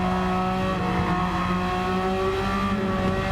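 Race car engines drone in Gran Turismo 7 as an Audi TT and a 997 Porsche battle alongside an Alfa Romeo 4C, a steady, loud, tonal engine hum holding throughout without a break.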